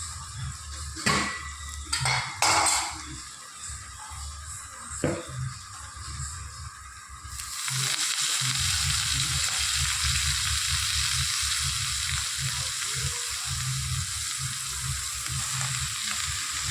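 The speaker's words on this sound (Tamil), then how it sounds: "வெங்காயம் நல்லா வணங்கிடுச்சுங்க. கீரை போட்டுக்கலாம்." Chopped greens tipped into a pan of frying onions, a few clatters and stirring knocks at first, then a loud, steady sizzle that holds on to the end, with no talking.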